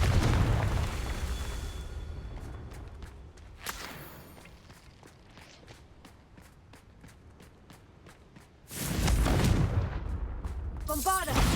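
Confringo blasting spells go off in Hogwarts Legacy, a video game: a sharp whip-like crack near four seconds, then a heavy, loud roaring blast near nine seconds and another burst at the end, with game ambience between.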